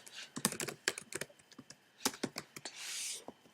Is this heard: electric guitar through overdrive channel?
no